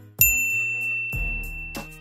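A bright notification bell dings, one clear ring with a long ringing tone followed by a second strike about a second later, loud and isolated with no voices.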